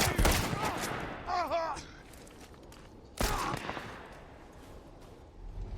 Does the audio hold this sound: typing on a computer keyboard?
no